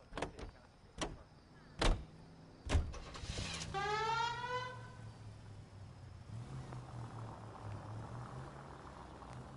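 A car in the 1940s Los Angeles setting of the video game L.A. Noire: a few sharp door clunks, an electric whirring buildup, then a low steady engine idle that shifts slightly in pitch, moderately quiet with no talk.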